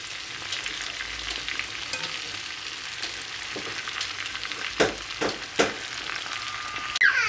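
Shrimp frying in oil, a steady close sizzle with a few sharp pops and clicks near the end.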